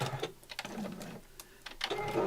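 A domestic sewing machine stitches a tree appliqué in short bursts, the motor whirring and stopping several times, close and moderately loud, with no voices.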